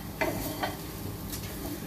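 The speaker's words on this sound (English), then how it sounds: "On medium flame, just constantly keep stirring." Onion fries on a medium flame in a pan while being stirred, giving a constant soft sizzle with a few light scraping taps of the utensil against the pan.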